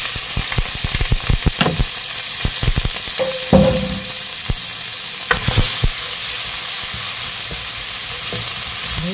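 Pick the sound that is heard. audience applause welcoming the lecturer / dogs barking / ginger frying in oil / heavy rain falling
ginger frying in oil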